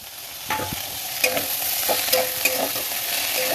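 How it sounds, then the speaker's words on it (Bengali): Potatoes and mixed vegetables fry in a pan with a steady close sizzle, broken by a few scraping stirs and clinks, and no one speaks. "তো এটাকে ভালো করে ভাজি"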